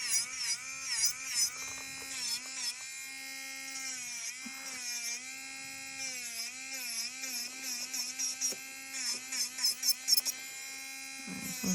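Electric nail file working on dip powder nails: a thin, high-pitched motor whine that dips and rises in pitch as the bit presses and lifts, quiet and close, with short grinding bursts and no talking.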